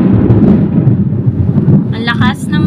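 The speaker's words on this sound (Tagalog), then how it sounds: "Ang lakas ng kulog." Loud thunder rolls in a deep, continuous rumble close by. A voice breaks in briefly near the end.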